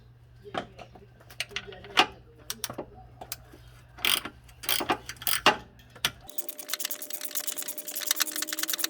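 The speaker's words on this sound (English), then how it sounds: "I need to get the wrench and socket on this so I can thread it in a little bit more." A wrench and socket threading a bolt while an alternator is replaced on a Genesis Sedan V8, giving sharp metallic ratchet clicks and clinks in irregular bursts close by, with a steady hum underneath at times.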